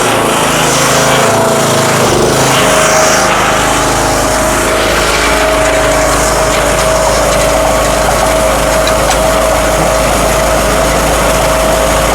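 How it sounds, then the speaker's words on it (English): A seed tender auger loading wheat into a no-till drill runs as a steady, loud mechanical drone with an engine hum, continuous and close, with no talk over it. "Forgot to turn the auger on."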